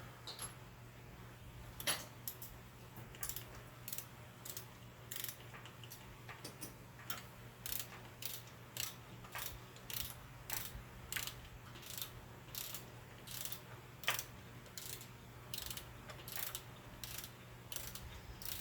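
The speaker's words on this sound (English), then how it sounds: "we'll just go ahead and torque these one at a time too" A Snap-On torque wrench ratchets while tightening injector bolts on a first-generation diesel engine, giving a long run of fairly faint, evenly spaced clicks over a low steady hum.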